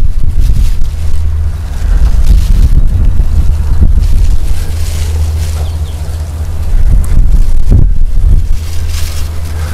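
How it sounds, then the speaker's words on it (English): Wind buffets an outdoor microphone with heavy low rumbling gusts that swell and ease throughout. Occasional brief handling or movement sounds come through, and no voices are heard. "It's kind of windy today in this area."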